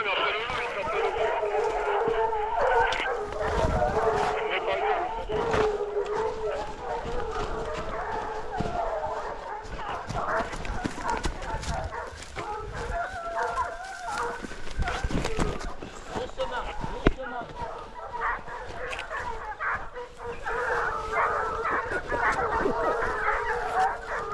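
Hunting dogs bark and yip repeatedly at a distance over a long stretch during a hunt, mixed with voices talking and outdoor movement.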